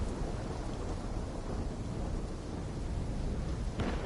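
A thunderstorm in the Call of Duty Black Ops 3 campaign, with a steady roar of rain and rumbling thunder filling the scene as a continuous wash, plus a faint crack near the end and no voices.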